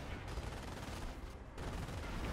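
An 88 gun pounds an AT gun in Company of Heroes amid a dense, continuous wash of battlefield gunfire and explosions, loud and steady throughout with no clear talk.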